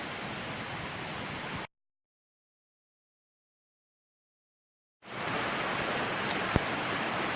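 Steady broadband rush of a forest waterfall on Buck Creek, Pisgah National Forest, cutting out abruptly in the middle and resuming at the same even roar.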